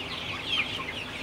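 Chickens in a poultry house during hot, humid weather, giving soft, steady clucking at low level, a brief louder cluck near the middle, with no voices.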